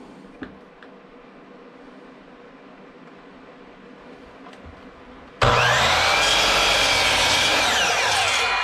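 A power saw starts abruptly and cuts into wood along a marked line, loud and sustained after a few seconds of quiet shop noise, in a woodworking jig setup.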